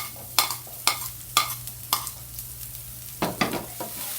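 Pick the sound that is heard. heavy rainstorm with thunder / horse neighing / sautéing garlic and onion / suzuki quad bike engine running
sautéing garlic and onion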